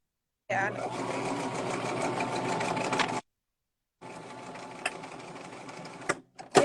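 A sewing machine stitches fabric seams in two bursts, a steady fast whirring run of about three seconds, a pause, then a second shorter run ending in a few sharp clicks, close and fairly loud.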